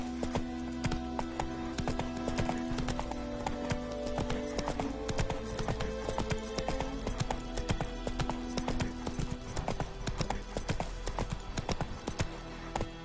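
Roach, Geralt's horse in The Witcher 3, gallops with steady, rapid hoofbeats that stay loud and close throughout, a dense rolling clip-clop over a game music bed.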